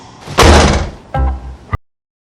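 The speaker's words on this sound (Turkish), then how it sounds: "Kapıyı iterek kapatacaksın ki böyle çat diye ses çıksın." A door pushed shut lands with a loud, close slam, followed by a second heavy thud and a sharp final knock before silence.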